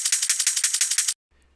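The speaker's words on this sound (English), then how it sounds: "These are the original shakers." Original sampled shakers play a fast, steady rhythm of bright rattling hits for about a second, then stop abruptly, leaving a faint low hum.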